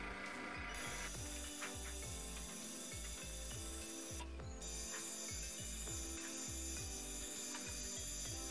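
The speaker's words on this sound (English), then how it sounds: "The unit will now go into open and close a couple of times to complete the calibration." A Series 70 NXT valve actuator cycling open and closed during auto calibration, a steady rhythmic ratcheting gear whir running continuously, close and mechanical with no talking.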